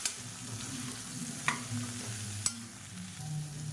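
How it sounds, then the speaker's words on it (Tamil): Drumsticks and brinjal sautéing in a pan with salt, a steady low sizzle broken by a few sharp clinks of a ladle stirring, no talking. "முருங்கைக்காய், கத்திரிக்காயெல்லாம் வதங்குறதுக்கு கொஞ்சம் உப்பு சேர்த்துக்கலாம்"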